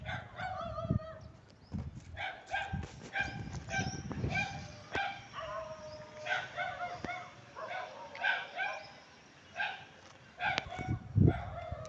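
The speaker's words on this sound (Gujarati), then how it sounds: "નકરું ભસ ભસ જ કરે છે કૂતરું" A dog barks repeatedly at a middle distance in irregular bursts, with some yelps, while a rooster and other birds call in the background.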